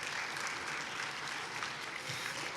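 Audience applause fills the space, a dense, even wash of many hands clapping at moderate distance, sustained without a break across the brief moment.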